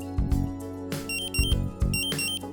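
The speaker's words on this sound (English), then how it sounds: "The A1 pre-alarm is set off as soon as the concentration exceeds the preset threshold." A gas detector's pre-alarm gives a few short, repeated beeping tones in irregular bursts, fairly quiet and heard on its own.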